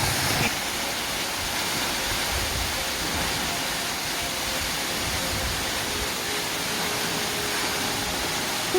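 Running Creek Falls, a 100 m waterfall in Lamington National Park, pours with strong flow, a steady broadband roar of falling water that holds constant throughout at close range.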